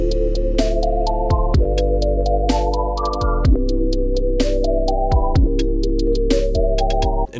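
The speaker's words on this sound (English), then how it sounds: "I went ahead and added an 808 just because the kids love the 808 nowadays." A booming 808 bass in a bedroom pop beat slides between long sustained low notes under a bright repeating melody and crisp hi-hats, steady and loud with no voices.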